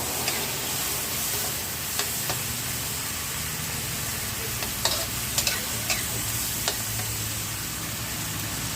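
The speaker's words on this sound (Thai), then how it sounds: "แล้วก็ทำการผัดให้เข้ากันเลยครับ" Crispy fried pork being stir-fried with kale in a pan, a steady low sizzle with occasional sharp clicks and scrapes of a utensil, moderately close and free of speech.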